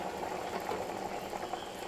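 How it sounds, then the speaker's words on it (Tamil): A pot of vegetable stew bubbles at a steady simmer, a dense, continuous gurgling hiss with no pauses, close by and fairly quiet. "இப்போ இது லைட்டாக கொதிக்கட்டோங்க பாருங்கள் நல்ல கொதி வந்துச்சு"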